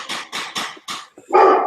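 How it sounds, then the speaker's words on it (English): A pet dog barks indoors at someone at the door, four sharp close barks in quick rhythm followed by a longer, louder bark-howl at the end. "Was that a dog?"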